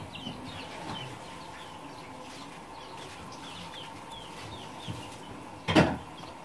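Chickens clucking softly in a rural yard, scattered short calls repeating across several seconds at moderate distance, with a louder brief knock or scrape near the end; no speech.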